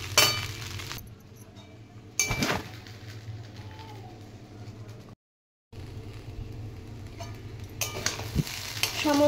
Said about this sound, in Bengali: এবার কিছুক্ষণ নেড়ে চেড়ে ভাজা ভাজা করে নেব